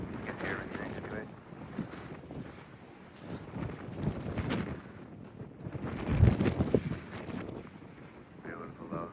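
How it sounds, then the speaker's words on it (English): Strong wind buffeting the microphone on a hike near the sea, a continuous rough roar that swells and gusts, with brief voices faintly mixed in. "Too windy."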